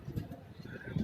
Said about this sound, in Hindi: ये भोपाल वाले कबूतर ही है